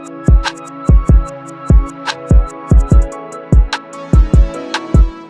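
Reversed hi-hat, rim and piano sample running over sustained pads and a steady kick in a hip-hop instrumental, loud rhythmic swells ending in sharp cutoffs alongside booming low hits, purely instrumental.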